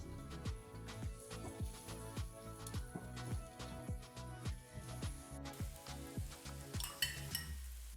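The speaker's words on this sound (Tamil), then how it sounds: "நல்லா எண்ணெய் ஸ்ப்ரெட் பண்ணி விட்டுட்டு இது நம்ம ஒன்று ஒன்றா அப்படியே தனித்தனியாக அடுக்கிட்டு அப்படியே சுட்டு எடுத்துக்கலாம்." Elephant yam (karunai kizhangu) slices shallow-frying in oil in a pan, a steady close sizzle with rhythmic pulses of stirring or turning, the slices crackling continuously throughout.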